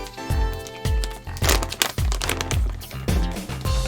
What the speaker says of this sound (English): I'm gonna make real munching noise